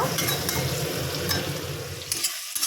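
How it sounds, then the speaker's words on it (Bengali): Onion and tomato frying in a pan for an egg curry, a steady dense sizzle with occasional stirring scrapes, continuous and close before a brief drop near the end. "পেঁয়াজটা একটু ভাজা ভাজা হয়ে যাক ভাজা ভাজা করে নেব"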